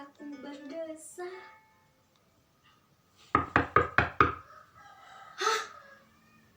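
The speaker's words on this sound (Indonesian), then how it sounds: "Ketukan itu, ketukan suami saya." A quick series of about six sharp, loud knocks on a door rings out alone in a quiet room, preceded and followed by a solo voice performing.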